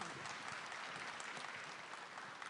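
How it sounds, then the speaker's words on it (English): A room full of people claps for a startup founder at a tech talk, a continuous, even wash of applause heard at fairly low level. "A huge round of applause, please."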